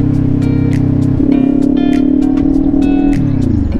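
A Kawasaki Ninja 500 SE motorcycle engine-braking on a fall ride in Tanay, Batlag, giving a loud, steady close-up engine drone whose pitch drops and shifts twice, with bursts of wind noise and no talking.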